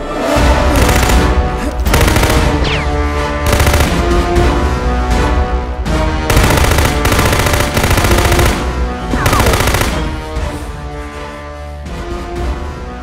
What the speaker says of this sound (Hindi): सुन नूरा, ये गन है, नीचे बैठ।